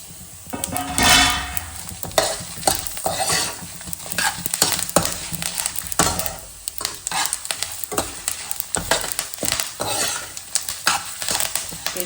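Red chillies and curry leaves crackle and spit in hot oil for a temple-style puliyogare tempering, loud busy sputtering bursts with a spoon scraping and stirring in the pan.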